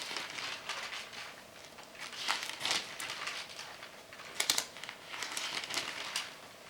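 Thin onion skin journal pages being turned, a series of soft, crisp crinkling rustles at close range with brief louder flicks, quiet overall with no voices.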